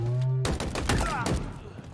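Rapid gunfire bursts in the Halo Infinite multiplayer beta, a loud, dense volley of automatic shots following a brief tonal hum, with game voice chatter mixed in.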